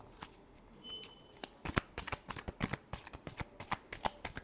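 Tarot cards are shuffled by hand in quick, crisp riffling bursts, soft and close, the flicks speeding up into a dense rhythmic patter.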